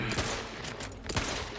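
Gunfire from a weapon in the video game The Outer Worlds 2: a short burst of rapid, sharp shots, loud and close, set over constant in-game background noise.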